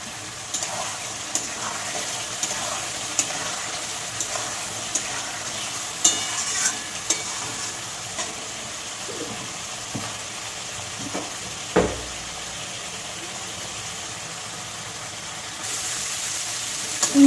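Egg curry (dim kosha) with sour yogurt and tomato frying in a pan, a soft steady sizzle broken by regular light scrapes and taps of the stirring spoon, close and fairly quiet with no talk.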